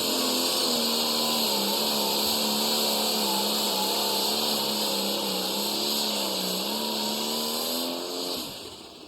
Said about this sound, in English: That's a former Pro Stock tractor, now running in this light Pro Stock class.